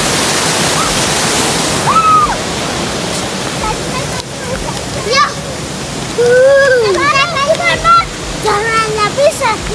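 A river in Nepal rushes loudly with a broad, steady roar of water close by, while several voices, including a child's, talk and call out over it.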